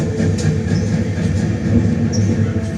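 An 8 Down passenger train pulls away from the small Shahjahanpur station, a steady, loud rolling rumble of wheels and carriages that continues without a break and with no voices.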